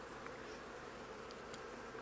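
Bees buzzing faintly around an open beehive during a honey harvest, a thin steady insect drone with a few brief closer passes, no talking.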